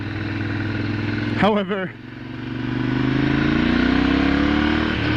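A single-cylinder KTM beginner motorcycle engine running close by, a steady thrum that rises in pitch as it revs, with someone talking briefly over it.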